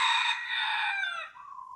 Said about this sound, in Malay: Ayam tu dia macam selit ke, dia takut.